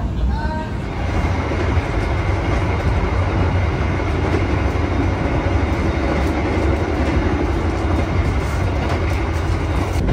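The Gajah Wong passenger train roars through Cikampek station in Indonesia, loud and continuous with rumbling wheels and rattling cars, a brief faint tone near the start.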